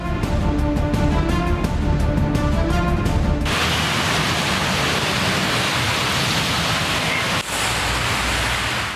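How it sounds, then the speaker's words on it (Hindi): Heavy rain pours down in Karachi, a dense, steady hiss of downpour filling the scene, preceded by a rhythmic tapping passage before the roar settles into continuous rainfall. "काली घटाएं छाई और बादल जमकर बरसे।"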